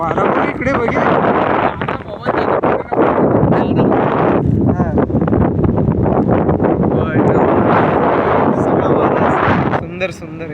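Strong sea wind buffets the microphone on a bridge over the water at Mandad, with loud gusty rumbling and rushing that dips briefly near the start and end, and people talk over it.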